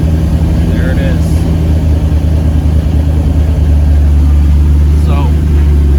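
A turbocharged LS-swapped Mazda Miata engine running at a steady idle, a loud, continuous low rumble and hum close by with little change throughout.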